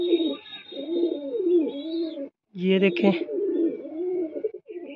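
A female pigeon coos in low, rolling, repeated phrases close by, broken by a brief pause, while someone speaks over the calls.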